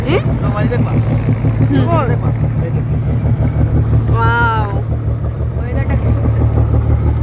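Steady low drone of a boat engine running throughout as the craft moves along a river, loud and constant, with several people talking and laughing over it.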